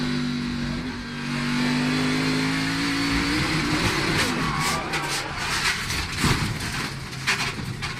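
Onboard a NASCAR Craftsman Series truck at Watkins Glen road course, the engine drones at steady pitch, then rises into hard, loud revving with rapid gear changes and bursts of acceleration, close and unbroken throughout.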